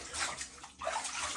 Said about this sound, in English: Let's get a little extra water here.